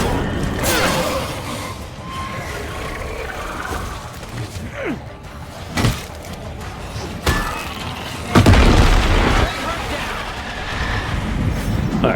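A plague heart is destroyed in the State of Decay 2 video game amid game combat, with scattered sharp thuds and impacts, then a loud crashing burst near the end that fades into softer rumbling.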